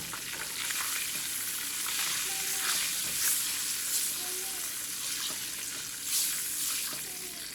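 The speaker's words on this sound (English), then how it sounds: "And I'm going to add my flour, but you want to add it just a little at a time." Flour goes little by little into a hot pan for Southern smothered oxtails, making a continuous sizzle with faint stirring scrapes and a few louder crackling swells, with no speech.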